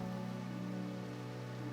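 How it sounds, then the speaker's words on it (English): Steady rain sweeps in over hikers on a wet, washed-out day in Wales, a continuous even hiss that fills the clip at moderate level with no voices. "Oh yeah, that's rain, and that's coming this way."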